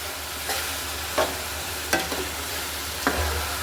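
Garlic pickle with vinegar cooks in a pan over very low heat, giving a soft, steady sizzle with a few light stirring clinks and scrapes, close and without speech.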